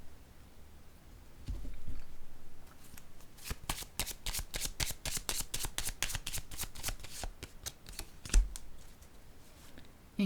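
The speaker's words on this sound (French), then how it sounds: "Je vais déposer une carte sur elle." A deck of cards riffled and shuffled in a long run of rapid crisp flutters, with a few soft thuds as cards are laid down, close and fairly quiet, no talking.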